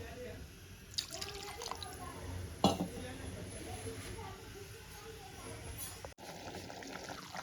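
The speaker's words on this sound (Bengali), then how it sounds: "আর একটু জল আমি দেবো।" Water is poured into a pot of dal as it cooks, giving a faint, soft trickle and a few drips against low kitchen background noise, with a voice heard faintly at times.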